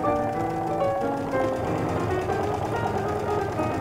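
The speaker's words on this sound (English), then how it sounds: "you can stitch in about 1/4 inch or just use the side of your presser foot as a guide to the top here" A sewing machine stitches a bag lining with a continuous close mechanical whir and a rapid needle rhythm that stays steady from start to finish, with no voice.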